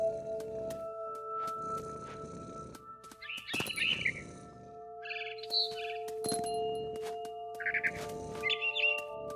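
A mother bird chirps in short, bright bursts from a tree in the game What Remains of Edith Finch, with repeated tweets spaced over a steady tonal ambient hum.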